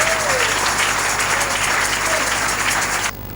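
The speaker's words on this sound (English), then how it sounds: "Give the Lord a clap offering, everybody" A church congregation gives a clap offering, a dense, sustained burst of applause from a full room that cuts off sharply near the end.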